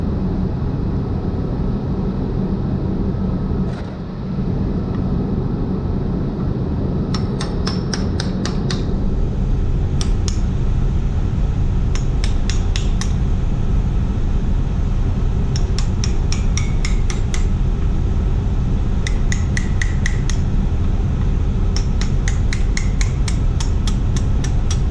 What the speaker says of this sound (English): and a hammer, and I try to pop it right through.